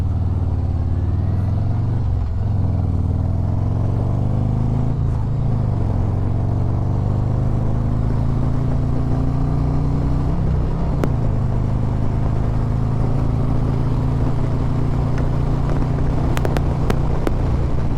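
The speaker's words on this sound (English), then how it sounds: "I don't know if you can hear that wind." Steady wind roar and engine drone while riding a 2024 Harley-Davidson Road Glide motorcycle wearing an old helmet, a continuous low rumble throughout with a brief click near the end.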